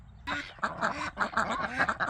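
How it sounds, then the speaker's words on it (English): Ducks quack loudly and repeatedly at close range on a homestead pond, a big drake among them, with rapid overlapping calls in bursts. "A lot of noise going on, ladies. That's a big drake, that one there."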